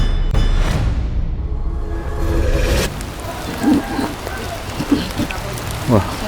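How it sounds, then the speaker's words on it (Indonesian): Rain falls outdoors in a steady, dense hiss of drops on surfaces, heaviest at the start. A few brief voices break through near the end. "Tiba-tiba hujan lagi."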